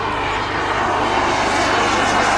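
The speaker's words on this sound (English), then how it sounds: "the engine, the power of the engine, essential for this kind of aeroplane." A powerful aircraft engine roaring at an air show on a former RAF satellite airfield at Elvington, Yorkshire, a loud continuous broadband drone that swells slightly, heard alone without talk.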